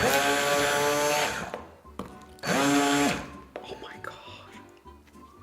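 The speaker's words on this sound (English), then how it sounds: "Now for this one, we're going to use the immersion blender" An immersion blender mixes a food preparation, giving two loud, sustained whirring bursts of about one and a half seconds each, separated by a short pause, followed by quieter clattering.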